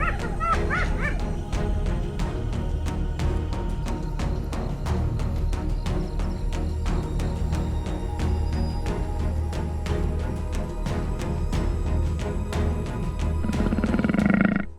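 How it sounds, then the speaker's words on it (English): A leopard growls while guarding its kill from a circling clan of hyenas in the wild. A continuous deep, rumbling snarl fills the scene, with scattered sharp yips and barks from the hyenas over it. "The leopard growls, guarding its kill."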